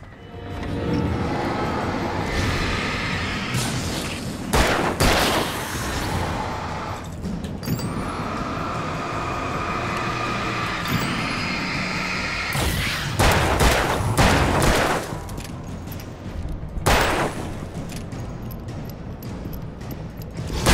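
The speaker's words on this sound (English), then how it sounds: "Flare gun, shoot." Flare gun blasts in the video game Alan Wake, several sharp loud bursts spread across a dense, noisy game soundscape with rumbling action between shots.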